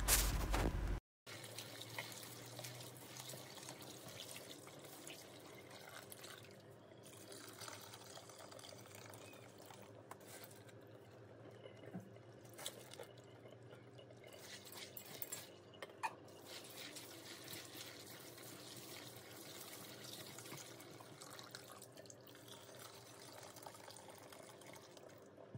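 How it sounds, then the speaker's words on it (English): Running water splashes steadily while beans are washed by hand, pouring and dripping at close range for the whole stretch, with no talk. "We are through washing the beans."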